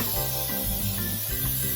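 Cooking spray sprayed onto a baking pan, a steady close hiss lasting nearly two seconds with slight pulses as the spray is moved around.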